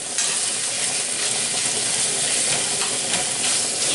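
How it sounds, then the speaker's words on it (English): Ground beef sizzles loudly in a hot pan while a spoon smashes and stirs it, a dense continuous frying hiss with faint scraping textures running throughout. "smash it like a madman with a spoon"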